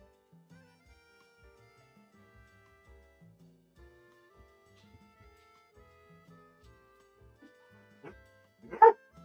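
A puppy gives a single sharp, loud bark near the end, following several seconds of quiet indoor sounds with faint soft noises.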